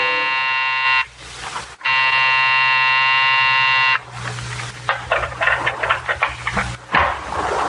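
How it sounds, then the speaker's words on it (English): A loud, harsh electric night door buzzer sounds in two long blasts, a short pause between them, followed by clattering and rustling noises. "when you pressed the night buzzer, it growled at you"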